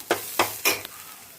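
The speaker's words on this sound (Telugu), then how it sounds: "ఉల్లిపాయలు వేగుతున్నాయండి" A spoon scrapes and stirs frying onions with chili powder in a pan for egg bhurji, three distinct stir strokes over a faint sizzle, with no talking.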